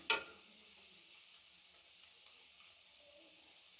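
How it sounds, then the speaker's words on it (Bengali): Pakoras frying in oil on a high flame, a faint, even sizzle that continues quietly after a sharp clack at the very start. "একটু ফ্লেমটা হাই করে দিচ্ছে হাই ফ্লেমে করে দিয়েছি পকোড়াগুলোকে"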